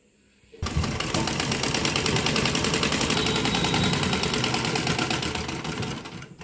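A sewing machine stitches along the folded edge of a dhoti, starting abruptly and running as a loud, steady rapid rattle for about six seconds before easing off.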